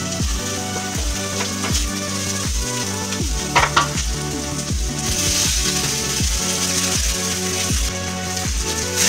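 Flattened rice is tossed into a pan of vegetables that are already fried until red. The mix sizzles and is stirred steadily, with rhythmic background music playing over the cooking sounds.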